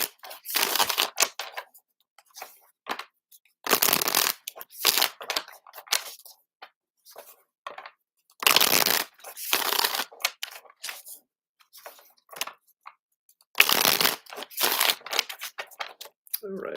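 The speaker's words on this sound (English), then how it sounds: "we're going to pull a card here, or some cards from the Naked Heart Tarot" Naked Heart Tarot cards being shuffled during a live reading, producing repeated bursts of papery riffling and sliding in an irregular rhythm, fairly close and moderately loud.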